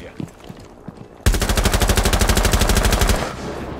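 Automatic gunfire in the video game Rainbow Six Siege erupts suddenly as a loud, close, rapid burst of evenly spaced shots lasting about two seconds, preceded by quieter game sounds.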